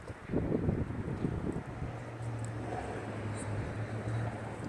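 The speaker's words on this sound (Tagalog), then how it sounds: "Windy." Steady outdoor wind rushes and buffets the microphone for the whole stretch, a loud, continuous low roar with gusty swells and a low hum underneath.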